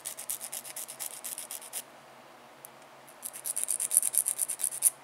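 Acrylic nail being filed to shape, rapid rhythmic rasping strokes up close, a burst of strokes, a short pause, then another quicker run of scraping passes.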